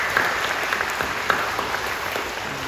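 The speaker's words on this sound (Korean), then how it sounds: "우리 격려하며 박수해 주시죠" A church congregation at a worship service applauds steadily, a dense patter of clapping at moderate volume throughout.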